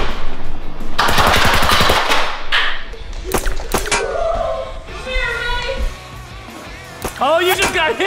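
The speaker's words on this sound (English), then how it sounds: "Are you shooting me?" Nerf blasters fire foam darts at a family Nerf battle game, giving several sharp rapid clicking bursts close by amid loud children's shouting and talking.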